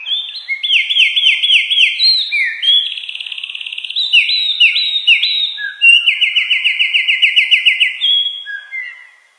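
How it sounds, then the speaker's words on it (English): A tiny forest songbird sings loudly and close, pouring out fast repeated trilling phrases and clear descending whistled notes in quick bursts across the whole stretch. "When this little bird sings, it fills the whole forest with the most beautiful, breathtaking voice."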